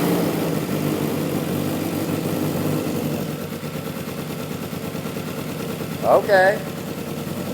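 Go kart fitted with a Corvette engine idling during a coolant warm-up test, a steady close rumble throughout, with a brief voice heard over it near the end.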